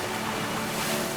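Ocean surf at a famous Irish big-wave break beneath sea cliffs, a steady broadband roar of crashing and rushing water with no voices, loud and continuous throughout.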